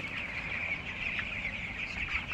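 A crowd of broiler chickens on a farm keeps up a dense, continuous chorus of high chirps and clucks, fairly loud and steady throughout.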